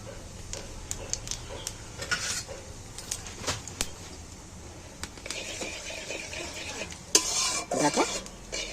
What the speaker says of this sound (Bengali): জিরে গোটা কত গরম তেলের উপরে দিয়ে দিই